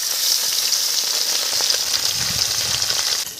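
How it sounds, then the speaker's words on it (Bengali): Small mourala fish fry in hot oil with a loud, dense, continuous sizzle heard up close, with a low bubbling underneath and no voices. "তেল গরম হয়ে গেছে, মৌরলা মাছ কটা ভেজে নেব।"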